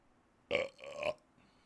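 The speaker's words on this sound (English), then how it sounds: "Oh, and we're back to burp." A single loud, drawn-out belch, rising sharply then holding for about half a second before stopping, close to the mic with no talk around it.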